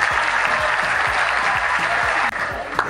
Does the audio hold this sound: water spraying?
no